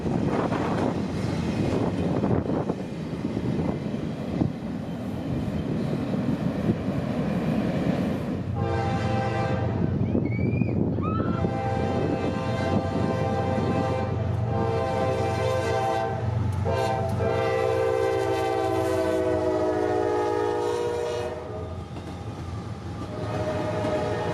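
A CSX freight train rumbles steadily past at Folkston, Georgia, and its horn sounds several long, loud blasts in the middle of the passage before the rolling noise continues on its own.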